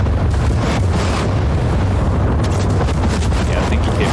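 Tank cannon fire in War Thunder, shots aimed at a T-55 tank during a ground battle, heard as dense, continuous low rumbling booms that stay loud throughout, with talk mixed in.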